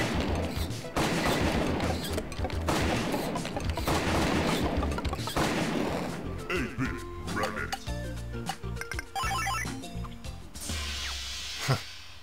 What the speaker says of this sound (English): Give me my shotgun.